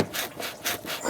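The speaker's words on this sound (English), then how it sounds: "I'm using a pick to get behind the hose, or underneath the hose, I guess, and break it free from that aluminum housing" A metal pick pries a rubber hose off the aluminum thermostat housing on a 2011-2018 Ram 2500 with the 6.4L HEMI. It makes a few close, rhythmic rubbing scrapes in about a second.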